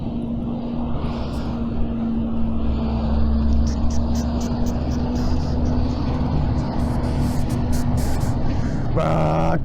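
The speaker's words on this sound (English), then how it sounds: "Please excuse the tractor. There's a building site like over there" A tractor works at a nearby building site, its engine giving a steady, droning rumble that holds for the whole stretch at moderate loudness.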